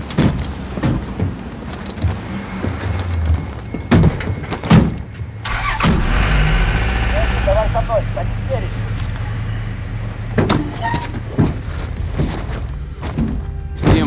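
Vehicle engine in the Call of Duty: Modern Warfare video game, starting with door thunks and clunks, then a sustained low driving rumble in the middle with radio-style voices talking over it and more thuds near the end.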